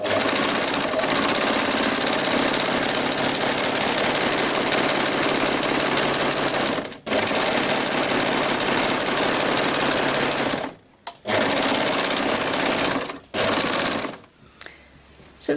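A sewing machine stitching a kimono sleeve runs in long, loud, continuous whirring bursts with a brief stop midway and a few short gaps near the end, close by and without speech.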